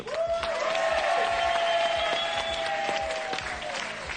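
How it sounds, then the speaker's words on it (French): A TV game show studio audience claps steadily throughout, with a sustained musical tone ringing over the applause. "On applaudit Muriel et Yed."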